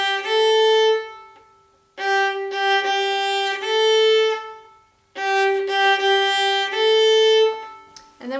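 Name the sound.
violin playing dotted eighth and sixteenth note rhythm on G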